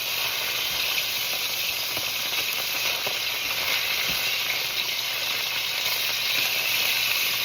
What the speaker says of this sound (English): Now it's splattering. I gotta lower the heat a little.